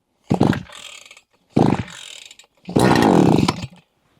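StartPro petrol brush cutter being started: three pull-start attempts, each a short ratcheting engine burst, the third catching into a louder running roar for about a second before cutting off.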